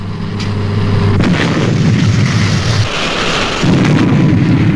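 A torpedo fires from a flying submarine in a TV puppet show, heard as a loud, deep rumbling whoosh with a sustained roar that swells and dips over a few seconds.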